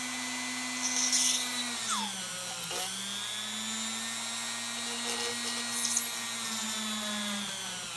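A rotary tool spins at about 1000 RPM while drilling into a pearl, a steady high whine that dips in pitch twice under load, close and continuous with no talk.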